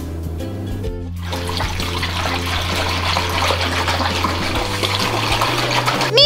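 Water gushes from a tap into a sink for a toy doll's bath, a steady running splash that starts after a short moment and continues at constant strength, with no talking.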